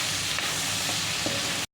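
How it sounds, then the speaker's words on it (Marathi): Onion, capsicum and tomato sautéing in a pan, a dense, even sizzle of hot oil heard up close for a brief moment before cutting off abruptly, no voices. "आता आपला चांगला परतून झाला आहे कांदा, शिमला मिर्च आणि टोमॅटो।"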